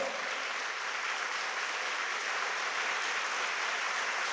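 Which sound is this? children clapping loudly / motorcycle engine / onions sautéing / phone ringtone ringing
children clapping loudly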